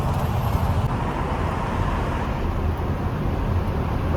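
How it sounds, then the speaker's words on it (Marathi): A truck rolls down a steep open downhill road, its tyres rumbling steadily with a dense, continuous road roar and no voices. "आणि इथं चालले टायराचा आवाज सगळा घुमा लागलाय"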